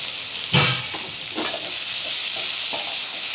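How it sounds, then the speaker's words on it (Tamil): Chopped onion, curry leaves and green chillies sizzle in hot oil in a pan over popped mustard seeds, a steady hiss broken by a few louder stirring scrapes and spatters, with no talking. "வெங்காயம் கொஞ்சம் பாதி வதங்கினா போதும்."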